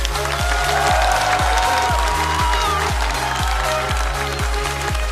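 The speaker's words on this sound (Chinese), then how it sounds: "掌声送给风欣彤。" An audience at a stand-up comedy show claps in a dense, continuous round of applause, laid over loud rhythmic music that pulses steadily throughout.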